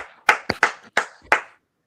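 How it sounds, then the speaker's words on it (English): A single person giving a little applause, four or five distinct hand claps at an uneven pace, close and clear with quiet gaps between them. "Pierce Nelson, a little applause right there"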